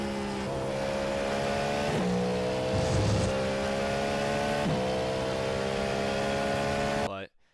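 Racing car engine from a video game holds a steady, loud electric-style whine with layered tones that shift pitch several times, running continuously before cutting off near the end.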